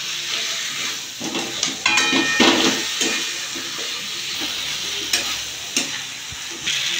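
Fish heads stirred in a frying pan for Bengali muri ghonto, a loud close sizzle with spoon scrapes and knocks against the pan recurring every second or so, no talk.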